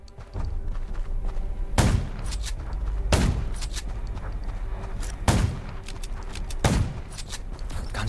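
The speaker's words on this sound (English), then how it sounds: "Gunshots will attract more." Gunfire in the zombie survival game Undawn: four sharp, loud reports spaced a second or two apart over a steady rumbling background, with no voices.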